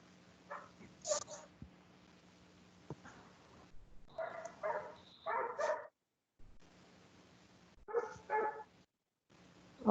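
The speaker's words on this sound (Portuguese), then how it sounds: "quem tem cachorro aí?" A dog barks in several short bursts of sharp yips and barks, fairly close, spread across the stretch, with a low electrical hum in the background between them.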